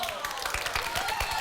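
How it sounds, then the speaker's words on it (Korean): A group of children in a lecture audience claps in a steady, moderately distant patter, with a voice talking over it. "아, 박수는 고마운데 얘들아, 여기서 왜 아저씨한테 박수를 쳐?"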